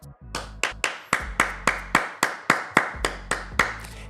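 A single person claps hands in a steady series of about fifteen sharp, close claps, evenly spaced over several seconds with no talk.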